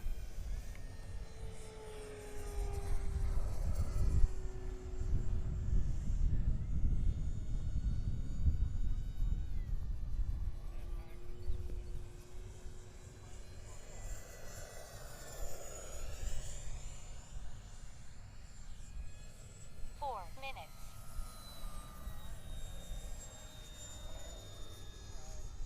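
A Gee Bee Model Y radio-controlled air racing plane drones steadily overhead in light wind, its small engine whine rising and fading as it passes at a distance, with brief talk nearby.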